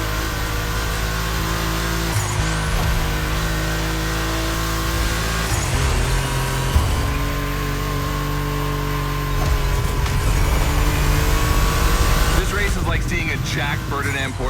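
Porsche 965 Turbo upgraded to over 400 horsepower in The Crew Motorfest, engine humming and revving with rising and falling pitch sweeps over a constant loud roar, while people talk over it.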